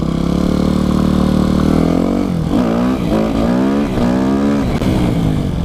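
A Yamaha YZF 250 dirt bike engine holds a loud steady drone, then revs up and down in several surging bursts during a wheelie attempt, close and alone.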